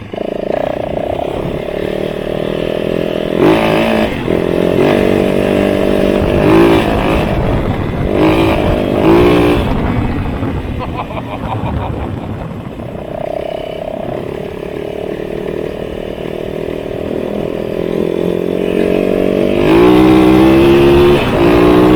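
A 450 motorcycle engine revs loudly and close by, its throttle rising and falling in repeated bursts with a steady idle rumble between them, and a brief stretch of voices partway through.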